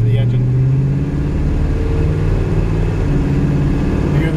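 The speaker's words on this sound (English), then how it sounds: "Let me let you listen to the engine." A 1962 Chevrolet Impala fitted with a replacement 350 crate V8 and 350 turbo automatic transmission runs steadily at close range, a continuous low engine drone holding an even level with a voice speaking over it.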